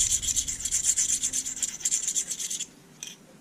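Knife edge honed on a Smith's pocket hone with light pressure, a steady close run of quick rasping strokes for over two seconds, then quiet and one last brief stroke.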